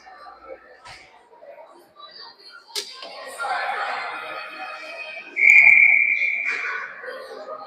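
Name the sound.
referee whistle at a hockey game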